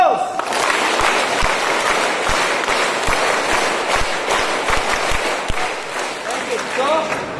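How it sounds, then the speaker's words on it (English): Applause from an audience at a school event, steady dense clapping filling the whole stretch at moderate loudness, with some voices talking over it. "So please give a round of applause."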